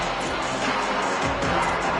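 Home crowd at a college football stadium roaring with a steady, dense cheer throughout, in a video game broadcast of Eastern Michigan at Michigan.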